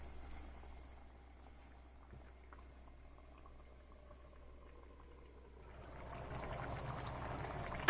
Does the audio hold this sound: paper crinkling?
no